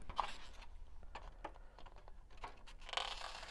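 Irregular crisp snips and crunches as thin clear plastic face shield pieces are cut together, a few close clicks and crinkles spread across a quiet background, with a louder crunching burst near the end.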